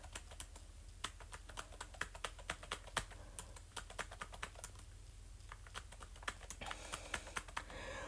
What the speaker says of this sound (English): now I'm just going to type.